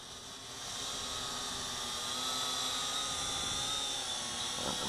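A Syma X8G quadcopter drone flies in to land, its steady high-pitched motor and propeller whine holding close and fairly constant, with no voices.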